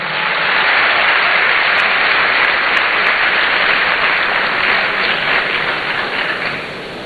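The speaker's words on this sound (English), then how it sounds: "A round of applause for him." A large audience applauds at a formal programme launch in Ghana, welcoming a university vice chancellor to the stage. The dense, steady clapping is loud and continuous for about seven seconds, then begins to thin slightly at the end, with no talking.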